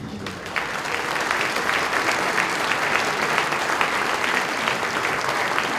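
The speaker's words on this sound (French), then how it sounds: "Donc vous pouvez déjà les applaudir." A large audience at a town New Year's greetings ceremony applauds steadily, a dense wash of clapping that holds at an even level throughout.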